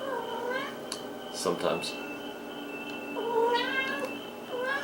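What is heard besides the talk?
cat meowing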